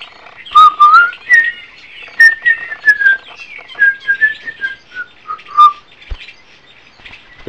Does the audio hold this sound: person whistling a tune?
yes